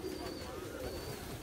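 Pigeons cooing in a loft, a soft low continuous cooing murmur from nearby birds, fairly quiet with a faint background hum and no clear talk.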